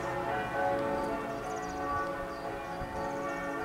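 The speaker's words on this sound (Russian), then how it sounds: "Колокола, мои хорошие, слышите?" Church bells ring out in a steady, overlapping peal from a nearby church, a dense layered clang of tolling tones that holds throughout with no voices.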